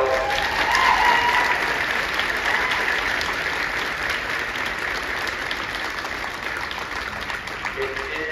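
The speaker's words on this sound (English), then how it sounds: "So give them a round of applause." A school concert audience gives a sustained round of applause for a high school symphonic band, dense and steady, starting strongest and easing slightly across the span, with no other sounds over it.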